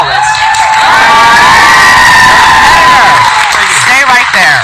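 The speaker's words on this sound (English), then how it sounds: "I didn't think I was going to come out with anybody even cheering." A studio audience on a reality show cheers, whoops and shouts loudly and without a break, while a voice talks under the noise.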